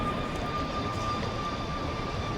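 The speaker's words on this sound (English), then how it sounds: "that's an airplane" An Alaska Airlines airplane on a Portland to Dallas flight gives a loud, steady engine drone with a constant high whine running through it.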